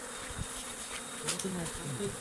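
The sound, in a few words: bees buzzing around a beehive box at night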